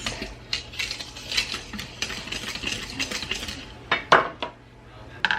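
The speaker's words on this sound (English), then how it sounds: "I'm just gonna whisk this together, stir it together" Dry baking ingredients are whisked together in a bowl, producing quick, uneven metal taps and scrapes against the bowl with a low hum underneath and a few louder clinks near the end.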